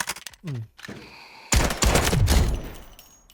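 A modified VSS suppressed rifle in the Delta Force video game fired on a test range: a brief voice, then a dense rattling burst of rapid shots with clattering mechanical noise, close and loud.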